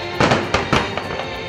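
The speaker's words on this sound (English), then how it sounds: "the fireworks are bursting overhead" Fireworks bursting overhead at a nighttime show, loud close booms and crackles in quick succession, three strong bursts followed by softer pops.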